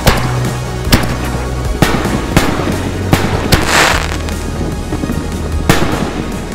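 Large aerial firework shells, a Gold King Willow with crystal crown and red apple blossom, burst in a sharp series of loud booms and crackles, with a sizzling trailing crackle in the middle.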